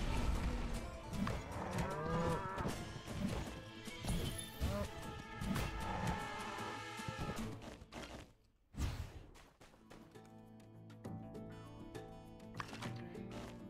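Cows in the farming game My Time at Sandrock, lowing repeatedly up close amid game music, with smashing and thwacking hits as they are attacked, then a brief pause and more mooing over the music.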